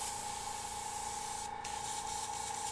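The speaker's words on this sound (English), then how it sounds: "We can even do a little spray." An airbrush sprays paint onto a tiki painting in a steady, close hiss with a constant tone, running almost unbroken except for a brief dip partway through.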